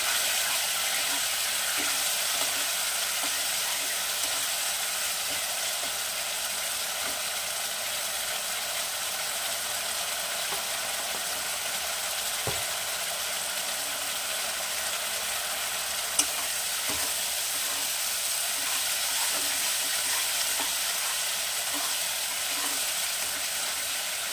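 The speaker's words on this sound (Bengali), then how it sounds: "একটু জল দেব মশলাটা কষানোর জন্য।" Bengali masala paste cooking down with a splash of water for a koi fish and cauliflower curry, a steady even sizzle with faint occasional scrapes of stirring throughout.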